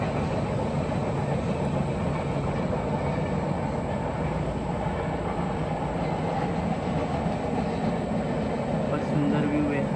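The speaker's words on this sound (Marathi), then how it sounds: "बाल्कनीमधून ट्रेन जाते ती." Train passing near a house in Konkan, a continuous broad rumble and roar heard steadily from a balcony, with no clear individual clacks.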